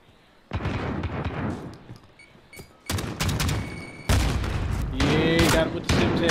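Shotgun blasts ring out in a Call of Duty 2v2 Gunfight match. Loud reports come in several bursts, mixed with other game sounds, separated by short lulls over six seconds.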